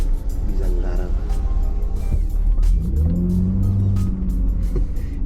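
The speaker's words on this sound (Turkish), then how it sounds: "Yalnız gaza dokundurtan bir araba gerçekten." A Mercedes S320L pulls away and accelerates from up close, the engine hum climbing in pitch, then easing off. No voice is heard.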